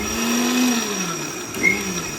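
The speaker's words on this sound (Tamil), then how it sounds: "மிக்ஸி ஜாரில் வச்சு ஒரு 2 சுற்று விட்டுக்கலாம்" A mixer grinder whirs steadily at close range blending lemons with water for lemon juice, a continuous motor drone with a slight pitch shift, no voices.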